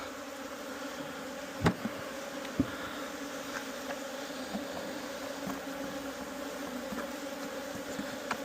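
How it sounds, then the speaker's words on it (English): Honey bees buzz steadily around beehives at an apiary, a constant close drone with a couple of brief knocks or clicks and no talking. "I'm going to feed these guys a little bit now."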